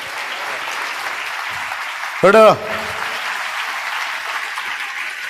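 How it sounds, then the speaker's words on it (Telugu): A church audience at a sermon claps in steady, dense applause that fills the whole stretch evenly, with one short spoken word from a voice cutting through near the middle. "కొట్టు చప్పట్లో"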